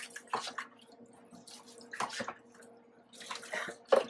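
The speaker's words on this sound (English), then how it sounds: "using the warm water that's already in the tub to then rinse the puppy off" Warm water scooped from a tub with a small plastic container is poured over a puppy during a bath, giving intermittent close splashes and trickles in short bursts with quiet pauses between.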